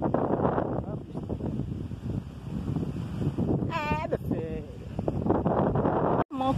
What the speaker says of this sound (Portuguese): Ventando e chovendo, né?